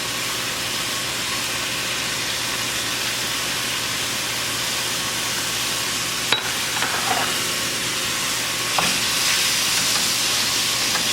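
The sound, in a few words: ground beef frying and sizzling in a pan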